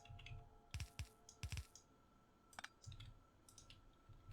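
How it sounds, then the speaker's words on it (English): Computer mouse clicks at a desk during Factorio play: quiet paired clicks in quick succession, repeated several times with short gaps, close and alone without talk. "I don't know why I keep double clicking."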